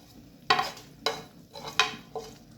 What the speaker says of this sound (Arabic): علشان بقى الفه في السمنه واحمصه كده وياخد لون حلو